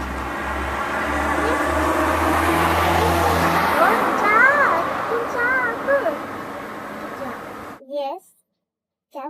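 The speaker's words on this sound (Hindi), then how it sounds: "ये तो एक गाड़ी है" A car approaches on a road with a steady, rising engine hum and tire noise, growing louder before cutting off, while someone talks over it.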